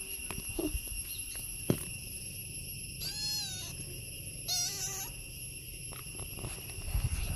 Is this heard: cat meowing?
yes